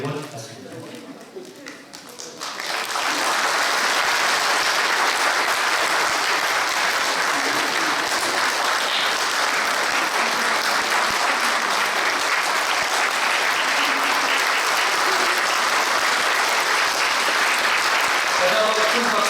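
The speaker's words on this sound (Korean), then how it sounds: "다시 한번 큰 박수와 격려 부탁드립니다." A church congregation applauds at a retirement thanksgiving service. The clapping starts after a brief quieter moment and swells into loud, dense, sustained applause filling the room for most of the stretch.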